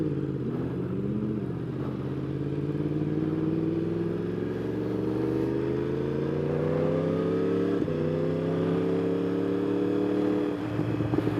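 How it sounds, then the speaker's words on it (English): A Yamaha R1 sportbike fitted with an Akrapovic exhaust and Woolich tune rumbles steadily up close, its harmonic engine note rising slowly through gear changes with a brief shift break near the end. "You can probably hear it burbling and popping. Sounds amazing with this Akrapovic."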